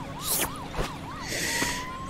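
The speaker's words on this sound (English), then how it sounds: "Why is there police sirens?" Police sirens in the video game Goat Simulator 3 wail in a rapid up-and-down pattern, a few clear cycles close and prominent, then change to a steadier tone over game background noise.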